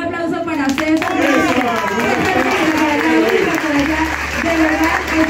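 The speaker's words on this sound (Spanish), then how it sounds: "Un aplauso para César." A crowd applauds with steady clapping, while a voice speaks loudly over it and a low hum comes in toward the end.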